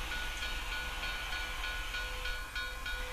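Train waiting at a station in the video game EchoNight, a steady mechanical hum with soft hiss and faint tonal whines, continuous and fairly low in level without speech.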